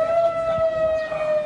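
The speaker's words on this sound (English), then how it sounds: "In Cedar Key, an emergency siren warned people to get out" An emergency evacuation siren wails over Cedar Key as a storm approaches, holding one steady high tone, loud and continuous, with no voices over it.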